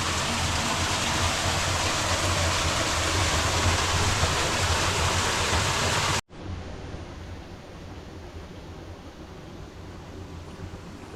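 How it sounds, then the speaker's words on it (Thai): Steady rain falls outdoors in a dense, even hiss, cutting abruptly partway through to a quieter, softer patter that continues to the end. "ฝนตก"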